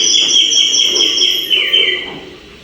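A small water-filled bird whistle imitating birdsong trills in bright warbling chirps, a close and fairly loud fluttering tone that wavers and slides down before fading out.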